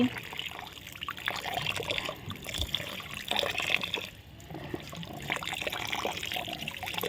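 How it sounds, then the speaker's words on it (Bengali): Rice being washed by hand in water while cooking, heard as close, continuous sloshing, trickling and splashing that rises and falls in waves, with soft speech in the background. "এখন দেখো চালটা এখন আমি ধুয়ে নিচ্ছি"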